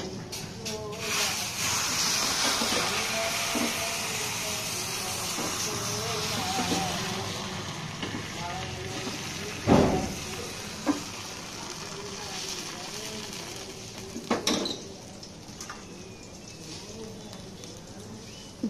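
Batter being poured onto a hot tawa griddle in a home kitchen, no oil used, giving a steady sizzle and hiss throughout with a few sharp clanks and scrapes, while people talk nearby.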